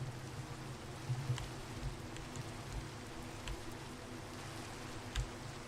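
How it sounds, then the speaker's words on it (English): Rain falls steadily in the Minecraft video game, a soft, faint continuous hiss with occasional light taps and thuds over a low hum. "And of course that crucial moment it starts raining as well."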